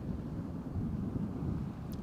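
Steady low wind buffeting the microphone, a constant muffled rumble with no voices.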